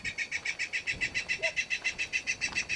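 Steady, rhythmic recorded bird chirps from a speaker at a missile display at Point Mugu repeat about six times a second, bright and mechanical-sounding, with faint background noise.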